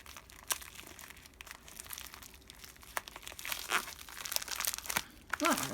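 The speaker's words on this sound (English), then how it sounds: "let's see if we can just rip it first" A small plastic package torn open by hand gives quiet, irregular crinkling and ripping, with bursts of tearing that grow more intense toward the end.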